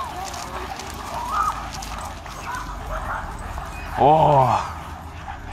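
A guard dog, an Amstaff or Rottweiler meeting street dogs, lets out one loud, close bark with a yelp near the end, after quieter background noise and faint voices.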